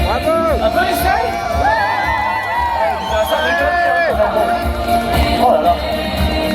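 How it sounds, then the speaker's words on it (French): A large crowd at a Deadpool Christmas show at Disneyland Paris cheers and whoops loudly, with shouting voices and hubbub filling the air continuously and individual clapping hard to pick out. "On peut applaudir pendant que je descends de Pegasus 3000."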